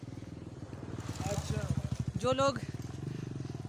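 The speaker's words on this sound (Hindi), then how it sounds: "ये बाइक से जा रहे हैं लोग" Motorbikes carry pilgrims up the Parasnath hill track, their engines thumping in a steady pulsing rhythm that swells and fades nearby while someone speaks over them.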